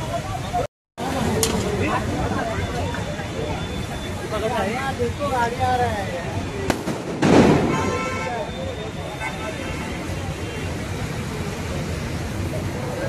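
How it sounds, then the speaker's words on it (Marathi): Sharp firecracker bangs burst out amid a noisy, chattering crowd at a goddess idol's arrival procession, with one loud crackling blast standing out over the continuous hubbub. "फटाके फोडणं चालू आहे।"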